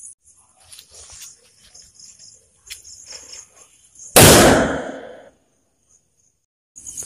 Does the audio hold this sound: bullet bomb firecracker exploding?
yes